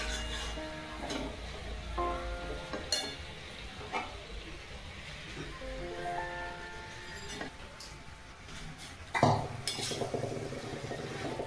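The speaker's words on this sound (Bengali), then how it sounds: "এবার আমি ডালটা দিয়ে দেবো।" Cooked mung dal goes into a pot of simmering gourd, bringing scattered clinks and scrapes of a metal spoon against the pot, close and moderately quiet with soft bubbling between strokes.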